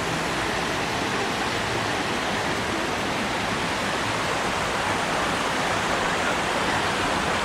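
Waterfall and rushing stream water at a newly opened resort in Infanta, Quezon, a loud, continuous broadband roar of falling and flowing water with no break, close by and unaccompanied by voices.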